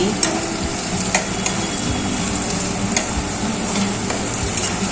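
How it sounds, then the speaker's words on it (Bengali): Beaten egg stirred into a frying cabbage mixture for cabbage chops, loud close sizzle with a dense bubbling bed and occasional sharp spatula taps against the pan. "এবার দিয়ে দিচ্ছি ফ্যাটানো ডিম এবার সব কিছুর সাথে নেড়ে চেড়ে নিচ্ছি"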